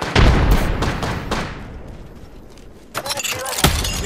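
A frag grenade is thrown and bursts in a shooter video game: a loud blast at the start that trails off, followed by further sharp impacts and crackling debris.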